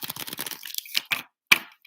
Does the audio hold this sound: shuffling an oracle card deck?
yes